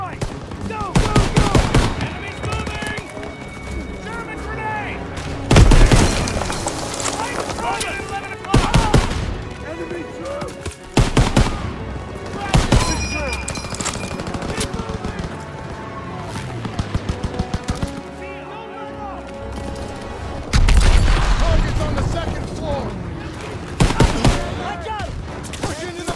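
Bursts of machine gun fire from MG nests in a barn, mixed with other gunfire, rattle through a battle in the Call of Duty WWII mission Operation Cobra. The firing comes in loud, repeated volleys with brief pauses, and shouted voices sound between them.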